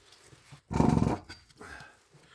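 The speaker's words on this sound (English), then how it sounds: "the dog Cooper had to come out and see what we were doing" A dog growls once in a loud, close burst of roughly half a second, amid a quiet woodworking shop where chisels are being restored, with faint rustling before and after.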